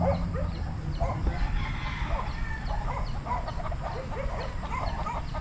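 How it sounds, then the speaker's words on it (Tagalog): A rooster crows repeatedly over a busy background of clucking chickens and steady farmyard noise, with no talking. "Gandang manok."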